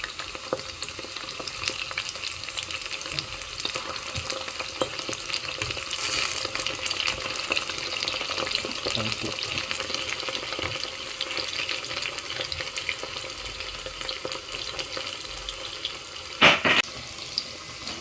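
Chicken 65 pieces deep-frying in spiced masala oil, a continuous bubbling crackle and sizzle throughout, with a short sharp clatter near the end.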